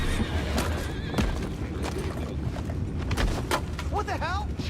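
Horses neigh and whinny amid a busy, clattering Red Dead Redemption 2 game soundscape, with a clear rising-falling whinny near the end over steady background noise.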